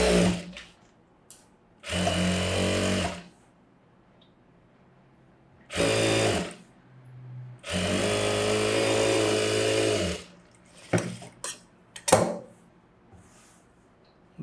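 A sewing machine stitches a princess-cut, front-open blouse in several loud, steady whirring runs of one to two seconds each. Quiet gaps and a few short taps fall between the runs.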